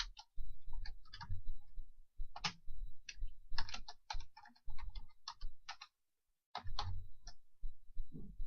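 Fingers tap out a short phrase on a computer keyboard, a close, quiet run of crisp keystroke clicks in uneven bursts with a brief pause near the end, and no voices.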